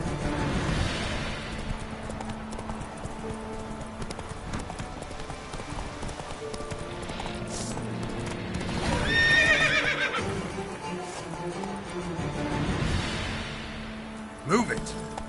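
Roach the horse in a video game, hooves clip-clopping in a steady galloping rhythm with a loud neigh partway through, close up, under a voice and game sounds.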